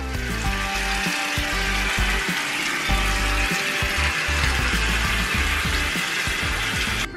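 Water sloshes and splashes continuously during a foot bath in a hospital bathroom, a steady, close, rushing wash with no pauses.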